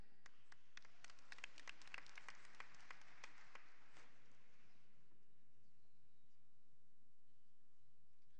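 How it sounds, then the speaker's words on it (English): At a Columbia Southern University 2009 graduation ceremony, an audience claps as graduates cross the stage: a scattered run of sharp, fairly distant claps that thins out and fades into quiet room tone after about four seconds. "feel free to clap as the graduates cross the stage"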